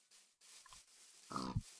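A pig grunts in the video game JailBreak: a couple of quiet, short oinks, then a louder, closer grunt near the end against a faint background.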